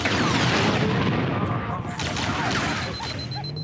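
A grenade goes off in Halo: Combat Evolved with a loud, dense booming rumble that lasts the whole span and carries gunfire-like crackle, close and with no talk over it.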